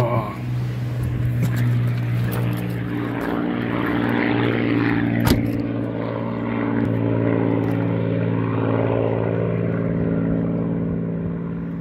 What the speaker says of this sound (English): The Spitfire just took off now as I was just pulling in